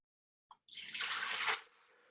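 Ginger beer poured from a container, a brief drip followed by a steady, close splashing pour of liquid lasting about a second before trailing off to a faint trickle.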